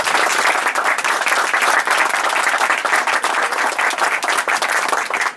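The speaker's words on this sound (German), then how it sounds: "kann man ruhig einen Applaus." Dense, steady applause from a gathered audience at an evening event, loud and continuous for several seconds with rapid overlapping claps and no speech.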